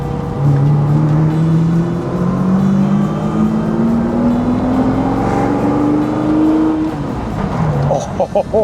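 A 400bhp E-type Jaguar XKE restomod engine pulls hard under acceleration, its loud rising drone climbing steadily in pitch before easing off near the end. Heard from inside the car, with people talking over it.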